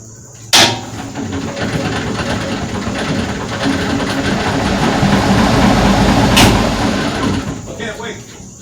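A south engine cranks and catches with a sharp bang, then settles into a loud, steady rumbling run that builds slightly before a second sharp crack; a voice speaks over it.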